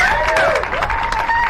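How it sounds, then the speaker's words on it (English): A crowd at a motorcycle bagger racing round at Chuckwalla Valley Raceway applauds the podium finishers in a short burst of clapping and cheers, with a whistle over it. "How about a nice round of applause for the podium here?"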